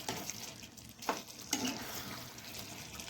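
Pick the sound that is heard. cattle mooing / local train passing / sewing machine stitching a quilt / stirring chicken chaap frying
stirring chicken chaap frying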